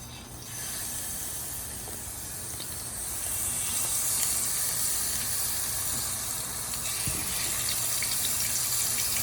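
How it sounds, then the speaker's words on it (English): Catfish steaks fry in a pan of hot vegetable oil, giving a continuous hissing sizzle that swells louder partway through and carries on steadily, close up, with no speech. "Dropping some of them catfish steaks."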